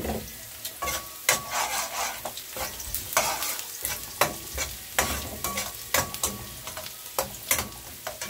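Garlic stir-fried in a pan for pork offal dinuguan, Bicolano style: a steady sizzle broken by repeated sharp scraping strokes of a utensil against the pan, close and fairly loud, with no voices.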